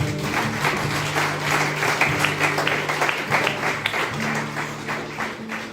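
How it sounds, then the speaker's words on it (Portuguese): A church congregation applauds continuously, a full, steady wash of clapping from many people with a low sustained tone humming underneath. "Se tu está aqui, aplaude a Jesus."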